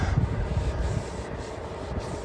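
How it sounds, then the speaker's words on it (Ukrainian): A rag rubbed firmly over a freshly stuck-on patch during a truck repair, a steady rough scrubbing rasp that is quite loud and close with no talk. "Тепер так тряпочки натрем, гарно, щоб воно гарно трималося."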